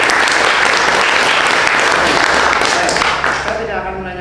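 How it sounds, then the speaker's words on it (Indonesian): Listeners give a student presentation on copper-plated celery-leaf jewelry a full, dense round of applause. The clapping is loud and steady from many hands, then thins and tapers off toward the end. "Beri tepuk tangan dong."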